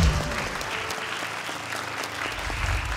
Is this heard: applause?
yes